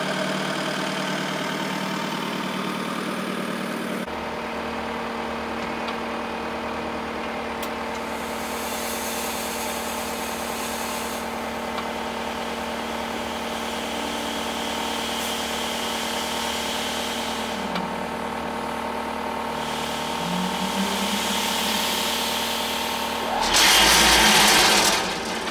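Case TR310 compact track loader working a dirt horse arena, its diesel engine droning steadily nearby with a shift in pitch late on and a brief louder burst near the end.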